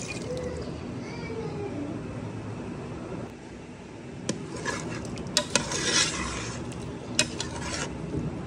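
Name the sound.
spice mixture poured and stirred into cooking meat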